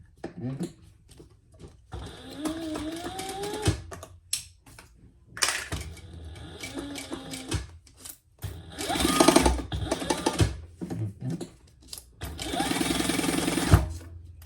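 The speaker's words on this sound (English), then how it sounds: "we're going to baste that on with an basting stitch, which is 1/8 of an inch" A domestic sewing machine runs a basting stitch on a Tulip Trio pouch in several loud bursts, broken by pauses and talk.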